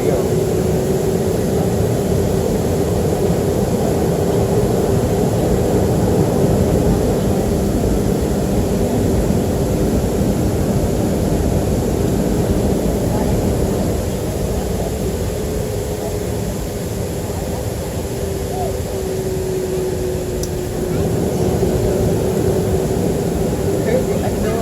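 A Southwest Boeing 737-300 jet takes off from El Paso, heard from the cabin as a loud, steady engine roar with a rising whine and dense rushing noise throughout, while passengers talk faintly.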